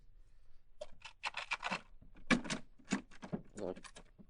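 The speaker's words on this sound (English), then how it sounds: "Lock turns all right, but nothing happens." A key turns in a door lock as an old-time radio drama effect, heard as a quick run of crisp metallic clicks and rattles, close and alone.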